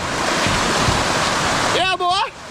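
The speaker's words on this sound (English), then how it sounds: "Oh, it's a waterfall." A river waterfall rushes loudly and steadily while kayaking on a Texas river near Dallas. A brief excited voice cries out near the end.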